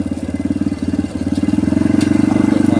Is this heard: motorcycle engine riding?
yes